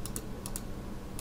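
Numbers are tapped into a calculator on a computer keyboard: a few quick, crisp key clicks, two close together, then two more, and one last tap, faint and near against a quiet background.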